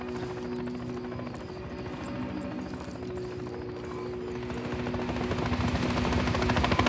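A helicopter in the Call of Duty Modern Warfare III video game drones steadily with a low rotor thrum, holding at a constant level and swelling slightly louder toward the end.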